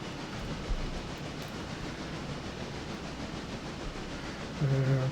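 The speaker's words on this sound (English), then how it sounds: "Passenger train." A passenger train passing in the railroad video game Railroader, a continuous rumbling rail roll with faint clatter, ending in a louder tonal horn-like blast near the close.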